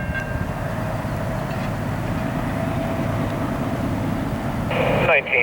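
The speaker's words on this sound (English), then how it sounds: "The Amtrak Crescent picking up speed as they head southbound towards New Orleans." An Amtrak Crescent train pulled by Genesis locomotives picks up speed heading southbound, giving a loud, steady low diesel rumble with rhythmic rail clatter and a rising whine near the end.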